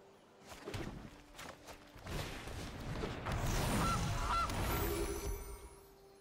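A goose honking in the card game MTG Arena, two short honks amid a swell of rustling, flapping game sound effects, fairly close and moderately loud.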